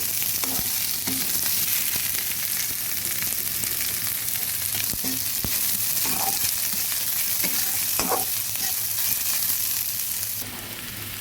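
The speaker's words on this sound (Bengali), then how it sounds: "এখানে ছোট সাইজের দুটো পেঁয়াজকে কুচি করে নিয়েছি ভালোভাবে ভেজে নেব" Two small chopped onions fry in a pan for a cabbage bharta, giving a dense, steady sizzle close up that runs through the whole stretch, with occasional clicks of a spatula stirring and a slight drop in level near the end.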